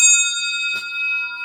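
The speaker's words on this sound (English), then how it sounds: "Whoever dings in first, that's why you have the bells." A single quiz-show bell dinged once during a sports trivia game show, a bright ringing tone with a sharp strike that sustains steadily and clearly throughout.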